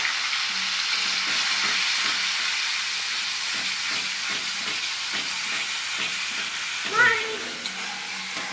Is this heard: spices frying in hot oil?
yes